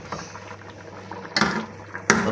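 Chicken and lentils in a pot on high flame make a steady hiss and soft bubbling. Two sharp bursts of sizzle or stirring stand out near the end.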